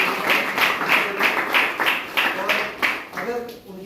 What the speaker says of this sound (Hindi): तो अजय यादव सर चलिए एक बार जोरदार ताली।